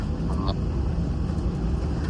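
Airliner cabin on a flight from Monaco to London in extreme wind and turbulence: a steady, loud broadband engine and airflow roar fills the cabin without a break.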